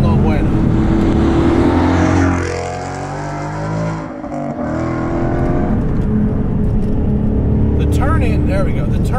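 A widened, supercharged 2015 Ford Mustang GT on air suspension being driven hard, its loud engine revving and surging with a brief dip in the middle, while a driver talks over it.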